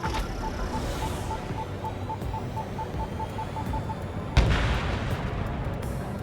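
Anti-aircraft guns fire in Ace Combat 7, a distant rumbling barrage under a steady hum with a repeating beep tone, then a sharper closer burst near the end, with no talk.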